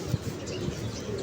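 Pigeon cooing softly, a few low murmuring coos over faint background noise while a lightweight, fine-quality bird is handled and shown off to a buyer.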